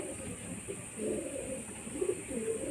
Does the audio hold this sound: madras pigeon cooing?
yes